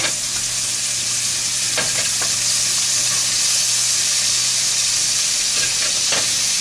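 Trout sizzles steadily in a 12-inch Lodge cast iron pan, a continuous close hiss of frying with a few soft clinks and scrapes as the fish is turned.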